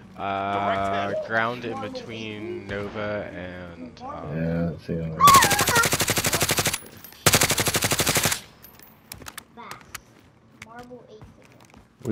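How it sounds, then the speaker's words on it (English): Rapid automatic gunfire from Call of Duty: Modern Warfare comes in two loud sustained bursts after a stretch of player voice chat, with talk briefly resuming between and after them. "Somebody's shooting us. You're getting shot"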